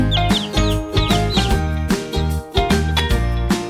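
High, quick chick cheeps repeat several times over loud, bouncy music with a steady beat.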